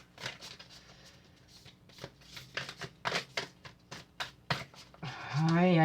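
Tarot cards being shuffled by hand in a run of crisp, riffling bursts with short gaps between them. A voice murmurs briefly near the end.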